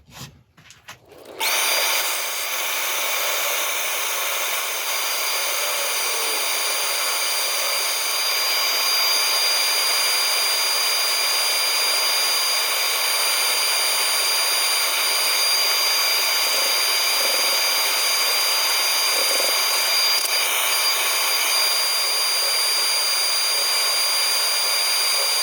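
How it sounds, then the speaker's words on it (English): A wood lathe spins a cat-shaped resin inlay turning while it is sanded, a loud steady high-pitched whir that starts after a brief moment and continues unbroken. "Now, I'll show you a bit of the sanding, but then I'll turn it off"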